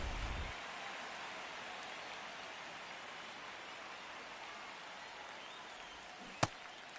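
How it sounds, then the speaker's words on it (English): Steady rain falls across a ballpark in MLB 26, a soft even hiss that holds throughout at low volume, with one sharp brief knock near the end. "This rain is not letting up."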